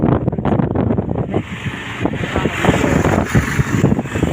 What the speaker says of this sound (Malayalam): കാറ്റ് നന്നായി വീശുന്നുണ്ട്